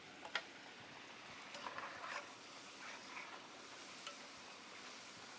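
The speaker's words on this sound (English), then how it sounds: "we fry potatoes twice when we're doing French fries" Steady, quiet sizzling and bubbling of potatoes frying in hot oil for French fries, with a few faint clicks and stirs.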